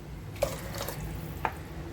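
Ginger-garlic water pours into a pot for mushroom biryani, a quiet continuous trickle with a couple of soft splashes and drips.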